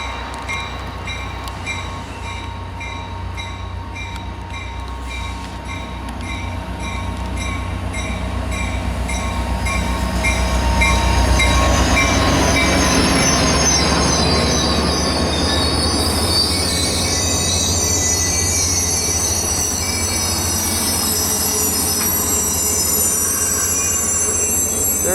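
Caltrain train 256, led by locomotive 901, rolls into a station with its wheels squealing. A loud, swelling rumble carries sustained high-pitched metallic screeching that builds and holds throughout.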